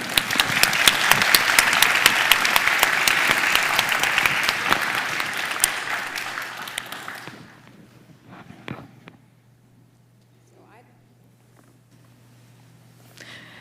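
Audience applause fills the room at an evening author event with Charles Yu, dense and steady clapping for about seven seconds before thinning to scattered claps and fading into quiet room tone.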